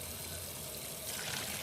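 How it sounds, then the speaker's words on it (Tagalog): Cooking water poured off boiled pasta for a no-bake lasagna, a steady rushing splash of water that runs continuously and grows slightly louder toward the end, with no talking. "Dito na drain na natin ang tubig."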